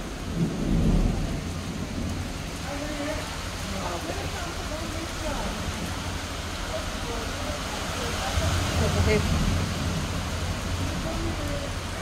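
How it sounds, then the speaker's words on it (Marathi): Heavy unseasonal downpour hammering steadily on a roof, with deep rolls of thunder rumbling underneath and a louder swell near the end. "किती मुसळधार पाऊस पडतो, दिसतंय तुम्हाला?"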